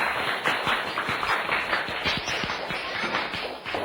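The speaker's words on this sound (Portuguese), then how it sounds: "Uma salva de palmas para o Anilson e para a Laís" Classroom students applaud two newly chosen candidates, a modest round of separate hand claps at close range, irregular and lively, with no talking over it.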